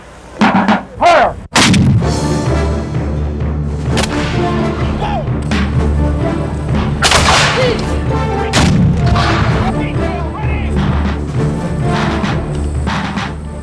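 Cannon and rifle fire at a Civil War reenactment: a few sharp booms open, then a loud sustained barrage of blasts and crackling gunshots rolls on, with occasional heavier thuds.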